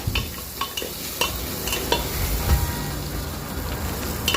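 Green chili and garlic stirred into softened bottle gourd frying in a pan, a steady close sizzle with irregular scraping stirs and clinks throughout, no voices.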